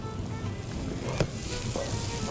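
Semolina halwa roasts in ghee in a pan, a loud continuous close sizzle and frying hiss with faint stirring, no talk.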